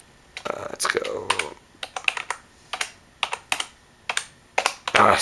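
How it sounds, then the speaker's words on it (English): Irregular bursts of typing on a computer keyboard, done one-handed, with sharp clustered key clicks and brief pauses, fairly close and moderately loud, while a faint voice speaks near the start. "It's hard to type with one hand too."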